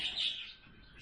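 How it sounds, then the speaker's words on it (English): Birds chirp outdoors in a quick, bright flurry of calls that peaks early and then fades to a softer twitter over the remaining second, with no talking. "I'm sorry the birds woke up"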